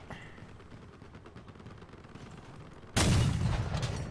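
Gunfire from a truck in the video game Crossout, quiet rattling at first, then a sudden loud burst of heavy shots in the last second.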